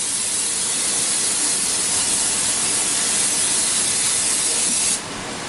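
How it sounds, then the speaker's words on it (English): Cooking spray hisses into a 9x13 baking pan in a kitchen, one loud continuous spray lasting about five seconds before cutting off abruptly. "I'm going to spray it just to make cleanup a little easier"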